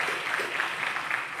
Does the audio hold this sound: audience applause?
yes